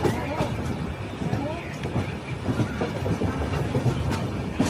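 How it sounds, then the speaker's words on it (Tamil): An express train runs on rails through a curve, with a close, continuous rumble and irregular clicking of wheels over the track throughout. "இப்போ இந்த வளைவில் திரும்புது பார்த்தீங்களா"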